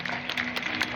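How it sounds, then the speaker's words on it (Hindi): A steady wash of clapping from a crowd at a Kumar Vishwas event, dense and even throughout, with no pauses. "जोरदार तालियां"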